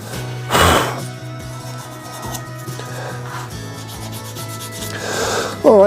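A resin shave brush blank is sanded while turning on a lathe: loud, close abrasive rubbing over a steady motor hum, with short harsher bursts of sanding at the start and near the end.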